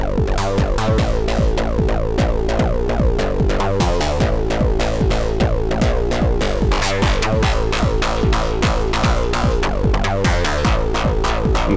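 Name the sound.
modular synth: Brooks oscillator FM-modulating Rubicon through-zero oscillator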